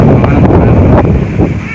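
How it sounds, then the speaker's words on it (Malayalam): Strong wind buffets the microphone in a steady, loud roar with gusty surges, nothing else standing out. "ഇതുപോലത്തെ കാറ്റാണ് എടുത്തുകൊണ്ട് പോകുന്ന കാറ്റാണ്"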